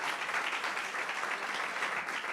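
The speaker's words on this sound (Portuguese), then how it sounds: "Damos um aplauso para Jesus." Congregation applauding in church during a Portuguese-language service, a steady dense wash of clapping throughout with no pause.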